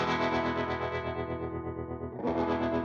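Electric guitar through a Universal Audio Dream '65 amplifier pedal rings out a sustained chord that fades, then a fresh strum comes in bright and chimey with effect shimmer.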